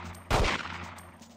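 A single loud gunshot from the N64 game 007 The World Is Not Enough, a sharp close blast that trails into a short decaying tail.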